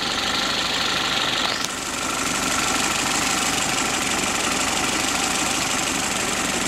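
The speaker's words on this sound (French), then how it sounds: "On va laisser tourner au ralenti." A car engine running on four cylinders idles low and steady with a constant hum and faint vibration, a brief shift in tone early on, no voices.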